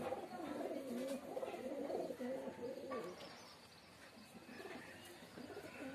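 Pet pigeons of the Andhra breed coo softly and continuously in a loft, a low murmuring layer close by with faint chirps over it and no voices.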